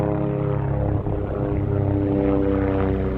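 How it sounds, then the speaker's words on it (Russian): A helicopter flies over a forest, its steady rotor drone and engine whine continuous and fairly close, with no talk over it. "Как обычно летит какой-то вертолет."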